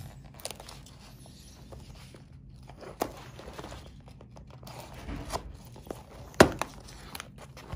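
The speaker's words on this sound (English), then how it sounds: "We will get this box open here. Always remember, never cut towards yourself like this, kids." A knife slices through a cardboard shipping box, with scattered scrapes and tearing, plus a few sharp crinkles and thumps spread across a quiet room. The sounds are soft and intermittent.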